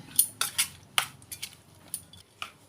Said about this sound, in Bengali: এবার সব কিছু আমি ভালো করে মিশ্রণগুলো মাখিয়ে নেব।